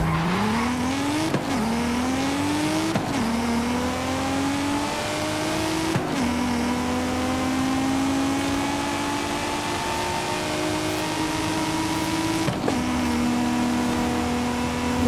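A 1993 Nissan Skyline R33 engine in Forza Horizon 5 revs repeatedly, pitch climbing through gears with sharp shifts, a steady loud mechanical drone.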